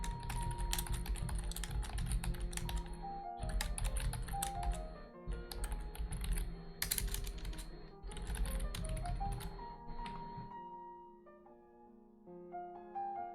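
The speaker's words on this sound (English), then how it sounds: "I was typing the notes." Rapid clicking keystrokes on a computer keyboard run in bursts with brief pauses, close and fairly loud over steady tonal background sounds that fade near the end.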